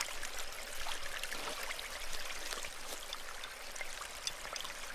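Creek water flows steadily in a broad, even wash of rushing and trickling, close and continuous with no voices.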